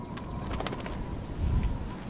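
Pigeons coo softly in an outdoor scene of the video game Life is Strange, a few low rounded calls repeating over faint ambient background, with no talking.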